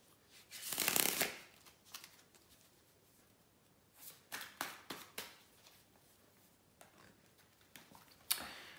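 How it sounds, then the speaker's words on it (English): Tarot cards being shuffled in several quick riffling bursts, close and crisp, with short pauses between and no talking. "give me a couple of seconds here to shuffle the cards"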